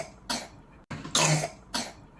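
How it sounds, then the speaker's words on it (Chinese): A child coughs three times in short, separate bursts, close and fairly quiet, with brief pauses between each cough. "我还在咳嗽，头有点晕晕的，好难受啊"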